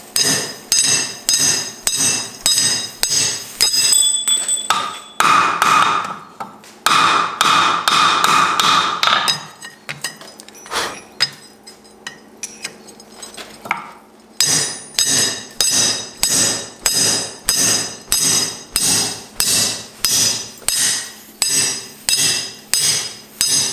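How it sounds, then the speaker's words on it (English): A drift is hammered through holes in forged rebar box-jaw tongs on an anvil, a long run of loud, evenly paced ringing metal blows with a short quieter pause midway, no voices present. "now to drift the holes open to make them to size"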